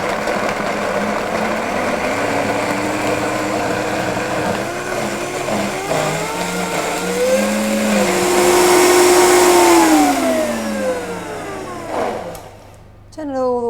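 A blender whirs loudly as it purées raw chocolate orange nut cheese, the motor pitch climbing and shifting as the speed is turned up and later down before stopping, with a person speaking over it.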